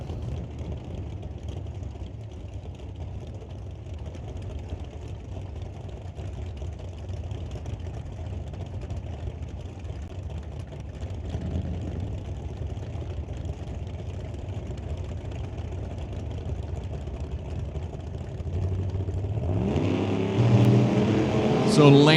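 Drag race cars idling and rumbling as they back up from burnouts at a racetrack, a steady low engine drone that swells louder toward the end.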